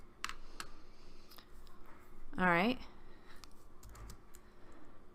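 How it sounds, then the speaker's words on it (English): Sporadic typing on a computer keyboard, scattered close clicks and taps, with a brief spoken remark in the middle. "I'm going to switch back to my typing."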